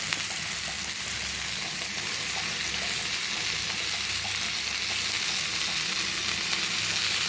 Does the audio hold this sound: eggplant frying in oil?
yes